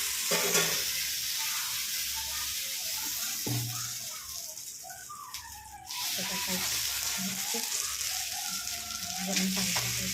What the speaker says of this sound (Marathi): आणि हे तेल बघा